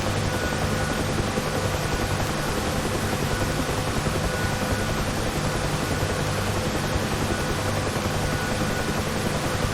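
Steady helicopter rotor and turbine drone from a hovering helicopter in a flight simulator game, a dense continuous broadband roar with low rotor hum held at even loudness throughout, no talking.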